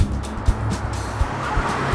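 A car turns around with its engine running steadily, and short thumps and tyre scrapes punctuate the manoeuvre at close range.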